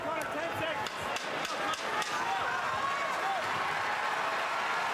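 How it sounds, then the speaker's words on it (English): Arena crowd at a UFC fight in Boston, Conor McGregor against Max Holloway, keeps up a constant murmuring roar and scattered cheers beneath a commentator's talk in the closing seconds. "So the crowd responding here down the stretch"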